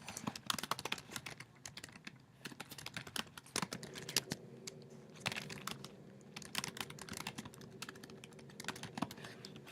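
Quiet, irregular clatter of keys on a computer keyboard, bursts of typing with short pauses, close and alone without speech.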